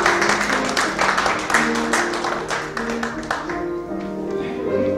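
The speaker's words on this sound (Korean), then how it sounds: "박수 한번 주시기 바랍니다." Applause from an assembled congregation at a Korean Presbyterian revival association general assembly, steady mixed clapping that fills the room and tapers slightly before picking up again, with some voices faintly underneath.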